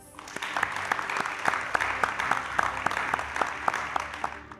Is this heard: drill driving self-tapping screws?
no